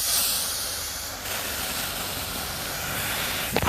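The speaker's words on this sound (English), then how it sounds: "Now this is my propane that I bought, so I can spray it like this if I wanted to." A propane can sprays a steady, loud hiss of gas for several seconds with no break, then it cuts to a short sputtering burst at the end.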